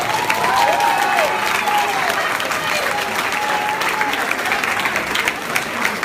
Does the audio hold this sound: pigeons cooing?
no